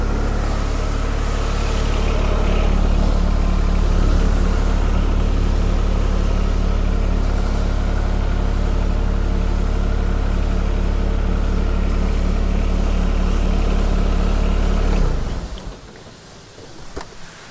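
A tractor engine idles at a steady, loud drone while a backhoe is detached, then cuts off about fifteen seconds in, leaving near quiet.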